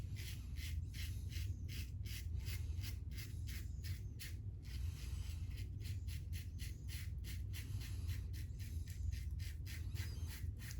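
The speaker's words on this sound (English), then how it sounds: "very short strokes, blade buffing, super light touch, just let it glide across the top of the skin" A British Gillette Rocket HD safety razor makes very short, light buffing strokes across lathered skin on the neck, a rapid, steady series of close scratchy swipes over a low constant hum.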